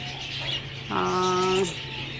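A single low, cooing pigeon call from a cage rises briefly over a steady background hum, close by, with no talking.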